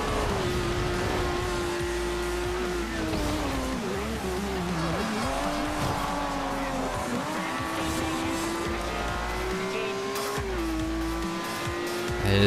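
A Lamborghini accelerates in Forza Horizon 2 on a wet track, its engine roaring loud and close with a rising and falling pitch through gear changes, tire squeal and skidding mixed in, no talking.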